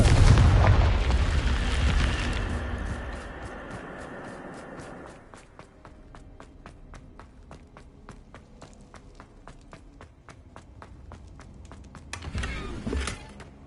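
Spell blasts in Hogwarts Legacy, the Confringo fire spell: a loud booming burst opens, then a long decaying rumble with quick footstep ticks, and another explosive hit near the end.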